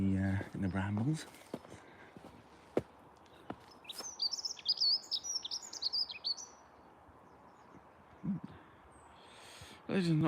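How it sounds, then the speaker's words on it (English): Birds chirp and tweet from brambles on a riverbank in the Scottish Borders, in bursts of quick, high notes among rustling and scattered clicks, with some louder movement noise at the start and end. "More interesting birds"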